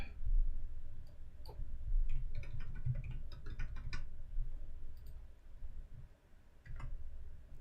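Rapid computer mouse clicking at close range, a quick run of light, sharp ticks in uneven bursts over a low background hum, with no voices.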